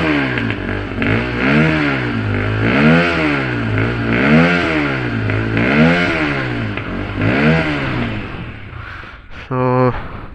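A motorcycle whose choke is acting up is started and revved repeatedly at close range, giving about seven rising and falling engine surges. A short, sharp change of engine tone comes just before the end.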